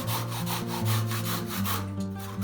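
Hand saw cutting a notch into a wooden post while laying knotty hinoki cypress flooring, a close, continuous rhythmic back-and-forth rasp with no talking.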